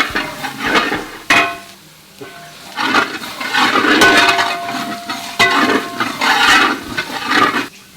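Ginger and garlic sautéing in oil in a pan for Kerala chicken roast, crackling sizzle in bursts with spoon stirring and scraping clanks, near and fairly loud, no talk.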